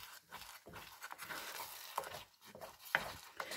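Vatapá, a thick paste, being stirred in a pan: soft, rhythmic scraping and squelching strokes repeat steadily, faint and close, with no talk.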